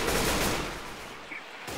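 Gunfire in Left 4 Dead 2 opens as a dense, rapid burst at the start, then fades out, with another shot right at the end.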